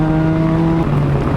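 A race car runs on a track with a loud, close engine drone holding steady pitch, then dipping sharply as the driver shifts gear.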